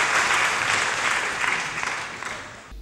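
An audience at a Ugandan agricultural studies event bursts into a round of applause, dense steady clapping that holds fairly loud throughout and then cuts off abruptly at the end.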